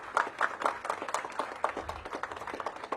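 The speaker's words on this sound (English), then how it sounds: "Give yourselves a big round of applause." Staff of a city buildings department giving themselves a round of applause at a mayoral announcement, a quiet, fairly distant patter of many hands clapping with no one speaking.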